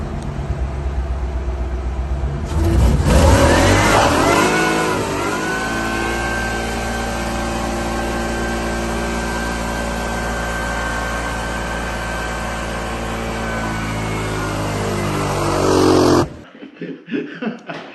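Supercharged Toyota 1UZ V8 with automatic transmission and Haltech 2500 control fires up and runs, a loud rising rev settling into a steady whining idle with strong harmonics close by, then stopping abruptly near the end.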